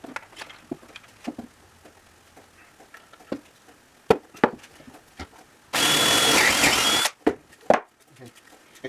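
Drill boring holes for the back legs of a foldable wooden lounge chair, one sustained loud burst of about a second amid scattered workshop knocks and clatter, close by.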